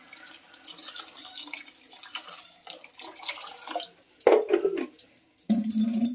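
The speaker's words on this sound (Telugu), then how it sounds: "కర్రీకి తగినన్ని వాటర్ పోసుకుందాం" Water poured into a ridge gourd and moong dal curry, with splashing and trickling that comes in bursts, louder near the end.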